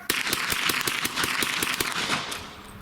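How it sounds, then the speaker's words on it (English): A 1923-series Tommy gun fires a rapid burst from the hip, roughly ten loud, sharp, evenly spaced reports in quick succession, close and unaccompanied by talk. "simulating a 10-round burst from a Tommy gun at the hip"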